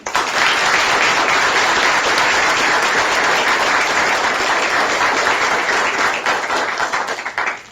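An audience at a law school Student Bar Association last lecture claps loud and sustained to welcome a professor, a dense, even wall of applause lasting several seconds before tapering off.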